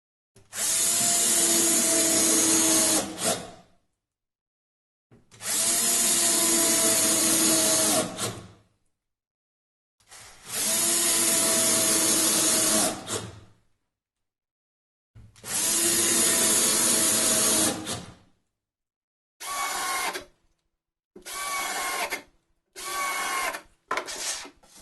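A power drill driving screws into the back panel of a wooden snare cajon from a kit, four long loud whirring runs of about three seconds each with pauses between, then four short bursts.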